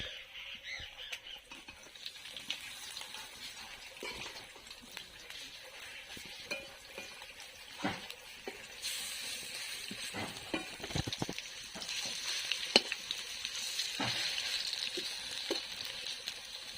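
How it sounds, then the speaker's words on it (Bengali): Himche fritters frying in hot oil give off a soft, steady sizzle with occasional stirring scrapes and utensil clicks, quiet and close, growing a little brighter toward the end. "এবার আমি হিমচের বড়াটা করবো, তার জন্য তেলের মধ্যে দিয়ে দিচ্ছি।"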